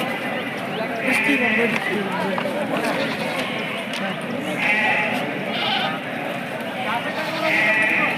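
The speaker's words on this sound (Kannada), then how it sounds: "ಪ್ರತಿ ಸೋಮವಾರ ಕುರಿ ಮತ್ತು ಮೇಕೆ ಸಂತೆ ನಡೆಯುತ್ತೆ" Sheep and goats bleat repeatedly amid a busy crowd at a weekly livestock market in Gubbi, Karnataka, with people talking throughout and calls rising above the chatter every few seconds.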